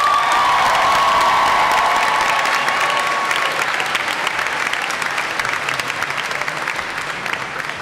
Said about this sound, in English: a huge round of applause for our Lynn Classical High School class of